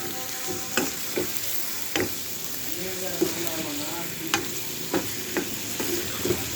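A chicken curry, its water cooked off, fries in a pan with a dense steady sizzle while a spoon stirs and scrapes against the pan in irregular knocks, heard up close without speech.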